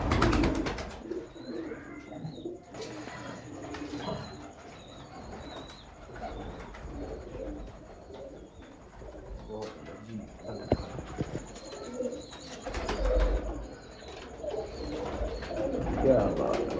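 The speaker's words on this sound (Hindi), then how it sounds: "बड़ी ही कैंडे की कबूतरी, बहुत ज़बरदस्त कैंडा है ये।" Sialkoti breeder pigeons cooing repeatedly in a loft, soft calls under steady background noise and people talking nearby.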